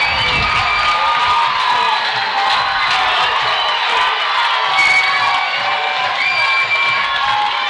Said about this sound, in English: The Central players are asking the fans to get up and cheer for